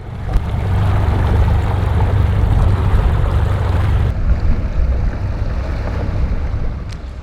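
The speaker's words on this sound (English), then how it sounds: "We got the boat in the water" Broad rumbling engine and water noise from a bass fishing boat on the water, with wind buffeting the microphone throughout.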